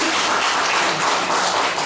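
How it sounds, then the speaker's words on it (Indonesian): A church congregation claps and applauds together in a steady, dense wash of hand claps for a couple of seconds, fairly loud and with no talking over it. "Tepuk tangan untuk Tuhan Yesus."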